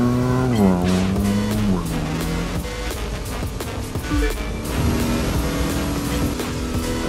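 Camaro V8 engine in The Crew 2 racing game, revving and shifting through gears with a loud, steady roar and rising, falling pitch, with faint tire squeal, no talking.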